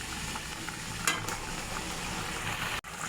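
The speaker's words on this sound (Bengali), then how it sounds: "মাছ আর ঝোল ফুটে গেছে, এখন বেটে রাখা গরম মশলাটা দিয়ে দেবো।" Pangas fish curry simmers in a pan and is stirred, with a soft bubbling sizzle throughout and a brief scrape of the spoon near the middle, close and fairly quiet.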